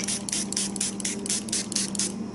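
A spray bottle spritzes in a quick, even series of about nine short hissing bursts, close up, over a faint low hum.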